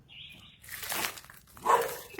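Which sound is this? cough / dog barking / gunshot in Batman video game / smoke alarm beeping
dog barking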